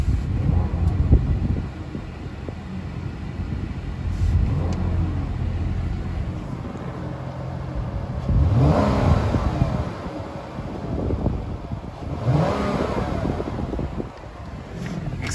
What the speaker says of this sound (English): I'm gonna do a rev test for you so you can watch the RPMs